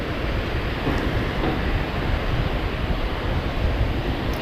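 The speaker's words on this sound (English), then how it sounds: "It was really a windy day when I had to walk on this beach" Strong wind roars across a microphone on Durban beach in rough weather, with crashing surf blended into a steady, loud, unbroken rush.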